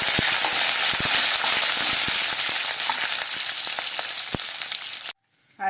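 Dried red chillies and curry leaves hit hot oil in a loud, close, continuous sizzle with scattered sharp pops and crackles, then cut off abruptly near the end.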